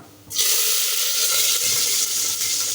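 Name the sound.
mustard seeds spluttering in hot coconut oil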